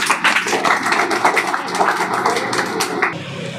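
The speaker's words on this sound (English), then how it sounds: "Let's welcome to her with a big round of applause" Audience at a school speech competition applauding a speaker's walk to the stage, a dense, steady round of hand claps close by, continuing loudly for several seconds before easing off.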